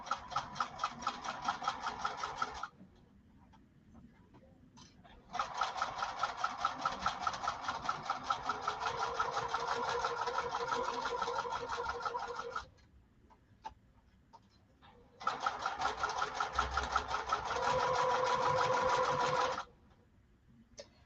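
A sewing machine stitches a garment lining at stitch length 3 in three long, steady buzzing runs, separated by short pauses filled with faint clicks and fabric handling.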